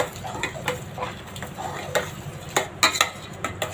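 A spoon scrapes and stirs thick chickpea flour dough cooking in a pot for a traditional sweet, with soft irregular clicks and scrapes against the metal at close range over a faint background hiss.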